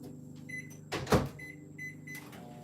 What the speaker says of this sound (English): So we're gonna pop this in the microwave for probably